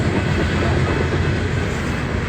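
A long coal train rolls past a railroad crossing, its wagons giving a loud, steady rumble and clatter that fills the whole stretch with no voices.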